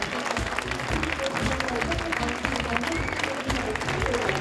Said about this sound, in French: Un grand bravo, applaudissements une fois de plus, mesdames et messieurs, pour Étienne Leroy